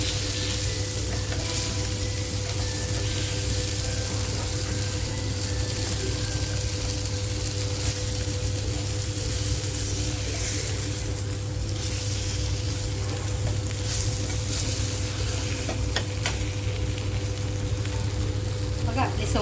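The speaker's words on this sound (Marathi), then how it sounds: "एक बाजूनी छान फ्राय झालेले आहेत पलटी काढून घेते" Saundale fish shallow-frying in a pan, a steady, dense sizzle of hot oil running throughout with no pauses, occasional faint clinks over the crackle.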